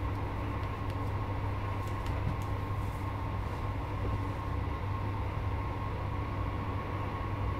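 Northern Class 158 Sprinter diesel multiple unit in a train simulator game, a steady droning engine and rail hum running continuously at a constant level with no voices.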